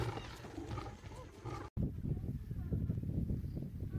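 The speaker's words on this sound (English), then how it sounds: "the deep, resonant roars of multiple lions" Several lions roar in deep, rumbling bursts that overlap and echo, loud and close, with a brief cut partway through before low rumbling roars carry on.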